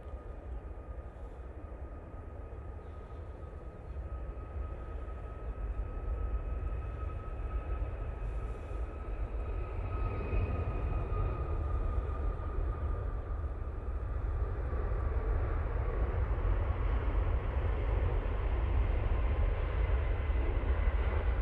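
Ryanair airliner departing Manchester Airport, a broad jet engine roar that swells gradually from a distant rumble to a louder sustained rush with a faint whine, steady and unbroken, no talking.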